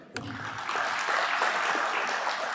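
Applause from an audience at a devotional discourse, clapping starting abruptly after a sharp initial clap and building into a steady, moderately loud round that continues to the end.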